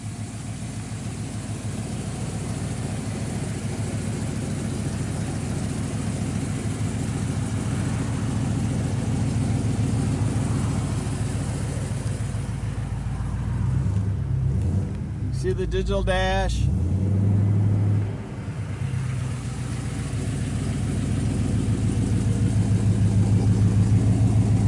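A 1956 Chevrolet Bel Air 210 with ceramic-coated headers, dual exhaust, electronic ignition and a 350 turbo transmission idles with a steady low rumble throughout, while someone talks over it; a brief rev and dip comes midway.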